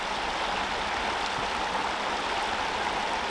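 The River Severn near its source on the Severn Way in Wales flows as a steady, broad rushing of water, close and continuous without pause and with no voices over it.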